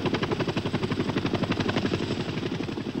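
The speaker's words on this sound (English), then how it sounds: "a helicopter would carry them to a hospital bed in South Vietnam" Helicopter during the Vietnam War, its rotor blades beating in a fast, steady rhythmic chop, loud and close throughout, with nobody speaking.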